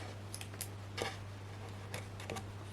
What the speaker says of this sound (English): now we can come in with some scissors